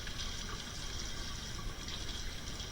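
Water pours steadily into a container for rooting elderberry cuttings, a continuous rushing, splashing flow heard up close with no gaps.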